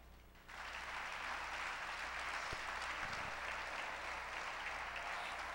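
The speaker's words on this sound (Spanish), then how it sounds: "Denle un aplauso al Señor" Church congregation applauding, a steady broad wash of clapping that starts abruptly and holds loud and even throughout, with no voices over it.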